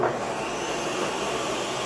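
A Ninja blender running steadily on medium speed while blending tortilla soup, a loud continuous whirring roar that stays even throughout with no voices over it.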